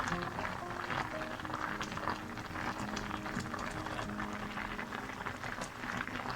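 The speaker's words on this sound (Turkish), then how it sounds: "Şöyle kabağımız kaynıyor" Continuous bubbling and rumbling of a pot of squash boiling steadily, close and moderately loud, with no voices.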